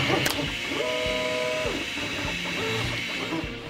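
A 3D printer printing slider parts in orange filament hums with stepper-motor whines that rise and fall in pitch as the head moves, steady and close, with no talking.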